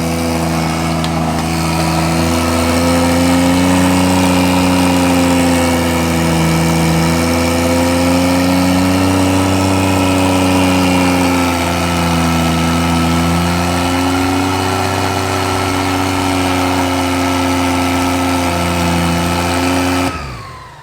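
A Toyota 1JZ engine swapped into a BMW E36 idles on its first start, a loud, close, steady hum with a slight wavering in pitch, running alone until it cuts off at the very end.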